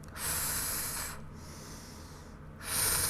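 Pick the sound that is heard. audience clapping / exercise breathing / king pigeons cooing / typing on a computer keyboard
exercise breathing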